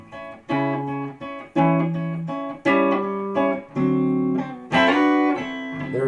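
Electric guitar plays a slow blues rhythm in 6/8, with sustained chords struck in a steady, swaying pattern and a brighter lick near the end, heard up close with no talking.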